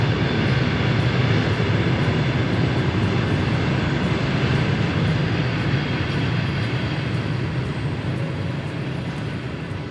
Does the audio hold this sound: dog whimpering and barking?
no